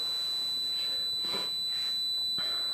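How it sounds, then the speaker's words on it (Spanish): A battery charger built around an op-amp emits a steady high electronic tone signaling a low battery, with faint rustles and clicks in the background. "Ven que sigue el pitido, es porque detectó que está descargada la batería"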